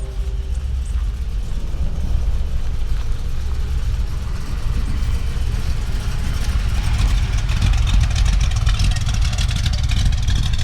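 The engine of the Jeepers Creepers movie truck runs steadily, a loud continuous low rumble that builds slightly in intensity toward the end, with no voices.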